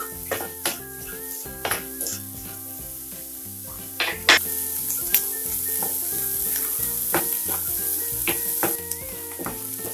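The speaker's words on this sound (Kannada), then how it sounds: "ಹಸಿಮೆಣಸಿನ್ಕಾಯಿ ಇದನ್ನೀಗ ಸ್ವಲ್ಪ ಬಾಡಿಸ್ಕೊಳ್ಳೋಣ" Capsicum and green chillies saute in a pan for pav bhaji, giving a bright, loud, constant sizzle broken by sharp spatula scrapes and clinks against the metal, heard close with no voices.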